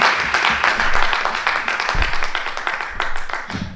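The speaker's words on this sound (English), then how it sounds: "Please give yourselves a round of applause." Audience applause at the close of the KOBY Summit, a session on life from student-athlete to attorney, a steady dense patter of clapping from many hands held evenly through the whole stretch with a few louder claps near the end.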